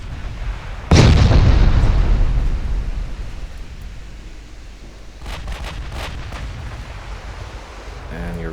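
Naval gunfire and shell impacts in the Ultimate Admiral Dreadnoughts game, with battleships trading fire: one heavy booming blast followed by a long rumbling decay, then a cluster of sharper distant cracks and pops later on.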